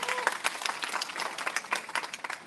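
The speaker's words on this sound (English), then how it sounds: "Please give them a round of applause." An audience claps and cheers for a university debate team at a pharma fest final round, a dense burst of applause filling the hall from start to finish.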